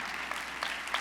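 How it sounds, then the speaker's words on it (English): A church congregation applauds in a brief burst of dense, steady clapping that sounds somewhat distant and moderately quiet. "Come on, we can give the Lord a round of applause."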